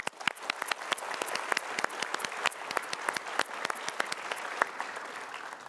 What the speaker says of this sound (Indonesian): Kita berikan tepuk tangan kembali.